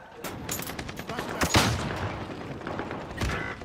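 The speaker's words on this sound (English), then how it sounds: "Shooting from the left, too." Dense video game gunfire, a continuous loud rattle of rapid shots with a few heavier bangs standing out, near and sustained throughout.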